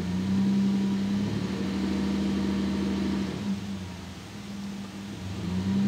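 A 2020 Chevrolet Colorado with the 3.6 engine held on a power brake drones steadily at a raised idle, a close, constant hum that dips slightly and then swells again.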